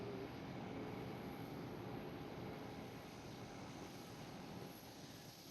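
A departing airliner at Amsterdam Schiphol airport, heading out via the Polderbaan runway, gives a steady, broad jet roar that holds at a fairly constant level throughout, heard at a distance with no talk over it.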